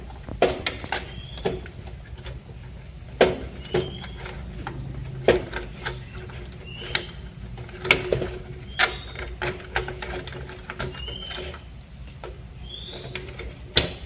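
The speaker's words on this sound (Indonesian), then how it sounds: "Selanjutnya kita akan membuka fan atau kipas dari prosesor ini." Processor fan being taken off a desktop PC during disassembly: a series of sharp plastic and metal clicks and ratcheting snaps, scattered irregularly over a low steady background hum, close by, with no voices.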